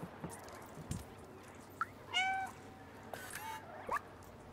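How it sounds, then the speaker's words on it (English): Two short cat meows in the video game Stray, close and clear, over a quiet hiss of background ambience with faint clicks between them. "if the jump's really far, cat's gonna meow."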